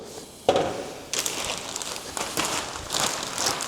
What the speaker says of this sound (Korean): 보시면 큰 비닐이 있고 작은 비닐이 있는데 큰 비닐은 이 통에 들어가시고요